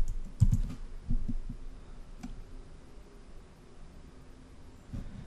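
Someone types on a computer keyboard, with a few close clicks up front, then scattered soft taps over a faint steady hiss and a final light keystroke near the end.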